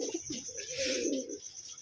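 Karna pigeons cooing in a loft where a couple of pairs are kept, a steady low rolling coo running through most of the clip with soft bird chatter above, close and moderately loud.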